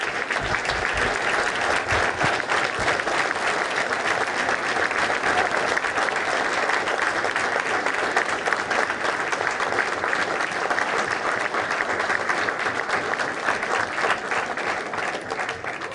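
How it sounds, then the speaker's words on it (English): A room full of residents at a town meeting breaks into sustained, dense applause for the town employees, loud and even from start to finish with no talking over it. "they deserve a round of applause for getting us through everything that we go through in town"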